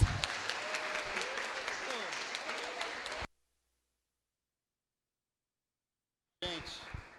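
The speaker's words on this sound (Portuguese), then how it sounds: "Dê uma salva de palmas para Jesus." A church congregation applauds in a loud, dense burst of clapping, then falls abruptly silent for about three seconds before the clapping resumes.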